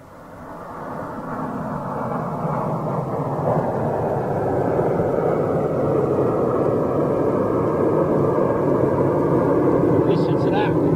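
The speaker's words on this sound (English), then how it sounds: "here's your MD-88 taking off" A Delta MD-88 jet airliner roars as it takes off, the broad rumble swelling over the first few seconds and then holding loud and steady.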